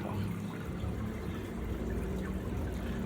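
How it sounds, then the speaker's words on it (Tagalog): Water from an aquarium filter pours in a steady, close splashing stream down onto rocks and into the tank, continuous and unbroken with no talking. "Pag bagsak dyan, babagsak pababa dito sa mga bato, sa backy rolls, tapos babagsak dito."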